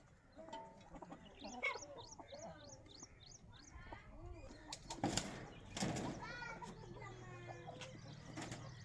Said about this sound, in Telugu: ఇదండి ఆ పుంజుని తెచ్చాను